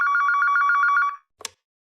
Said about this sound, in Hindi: इतना देर से फोन बज रहा है तो लोग उठा नहीं सकते हो?